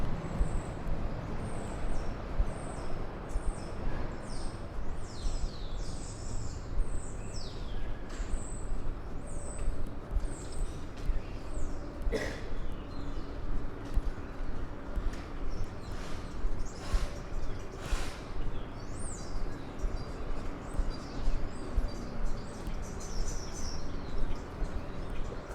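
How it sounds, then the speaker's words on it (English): Many birds nesting on the elevated 69th Street Flushing Line station in Queens, New York chirp and tweet repeatedly, high and fairly clear over a constant low city hum, with brief traffic and air-brake noise and no talking. "You can hear many of the birds have taken residence on this elevated train station"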